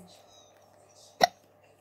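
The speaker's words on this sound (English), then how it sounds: "Yes, I've got the hiccups." One sharp, loud hiccup from a person breaks through quiet background murmur, a single short burst near the microphone.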